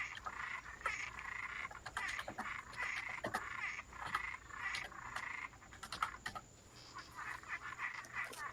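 Toads croak in a rapid, continuous chorus of raspy trills, fairly close and steady throughout, with a few sharper clicks scattered among them and no voices.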